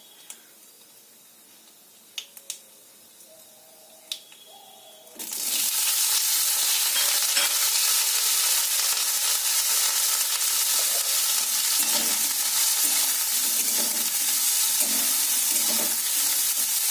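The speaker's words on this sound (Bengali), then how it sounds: "বেগুনগুলো একটু লাল লাল করে ভেজে নেবো।" After a few quiet clicks, a loud burst of hissing sizzle as eggplant hits hot oil, then continuous close frying crackle with occasional stirring.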